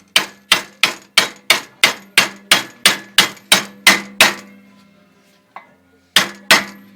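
A hammer lightly taps a rear axle bushing on a Porsche 914: about twelve quick, evenly spaced metallic ringing taps, a short pause, then two more, close and clear.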